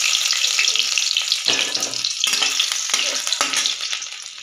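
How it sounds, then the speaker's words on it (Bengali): Chopped garlic and ginger hit hot oil in a wok, giving a loud, steady sizzle broken by several scraping stirs of a spatula. "এই কড়াতে আমি প্রথমে রসুন আর আদা কুচিটা দিয়ে দিলাম"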